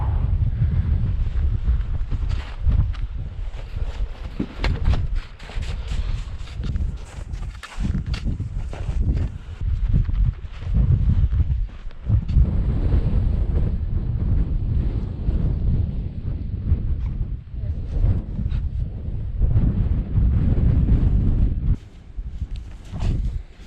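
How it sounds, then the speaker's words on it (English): Strong gusting wind buffets the microphone high on a mountain ridge near the summit of Caisteal Abhail, a loud, rumbling roar that surges and eases throughout with faint crunching footsteps underneath. "Here comes the wind again."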